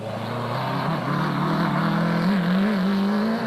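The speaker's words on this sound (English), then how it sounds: "Schilling in the Plastotech race car just does his thing" The Plastotech off-road race car roars past at the Rustenburg 200 in 2007, a steady loud engine drone whose pitch climbs and wavers as it revs, with no voices over it.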